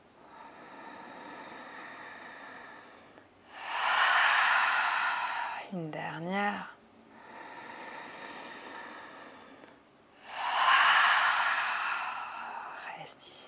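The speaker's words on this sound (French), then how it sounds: "On reprend 3 respirations nettoyantes. Inspire par le nez. Expire fort par la bouche." Forceful cleansing exhales through the mouth during an evening yoga-in-bed routine come as two long, loud breathy rushes, each preceded by a quieter inhale through the nose, with a brief soft spoken voice between them.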